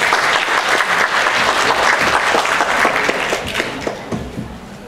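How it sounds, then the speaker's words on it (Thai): A large audience at a GNSS technology program event claps loudly and steadily, a thick wash of many hands that holds strong before thinning slightly toward the end. "Please give a round of applause."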